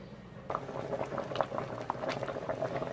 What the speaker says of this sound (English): spaghetti squash is still going, almost done. Got it boiling away.